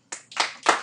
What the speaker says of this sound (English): Clap if you don't really know.